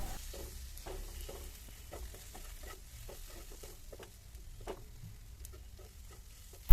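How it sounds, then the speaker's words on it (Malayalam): Quiet, steady sizzling as spice powders heat in a pan on low flame, with faint scattered ticks and light scraping of stirring, low and continuous throughout. "ലോ ഫ്ലെയിമിൽ വെച്ചിട്ട് ഒരു രണ്ടോ മൂന്നോ മിനിറ്റ് ഒന്ന് ചൂടാക്കി എടുത്താൽ മതി"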